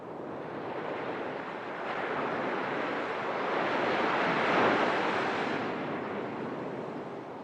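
Ocean surf rolls in as a steady broadband wash, swelling louder toward the middle and easing off again, with no voices.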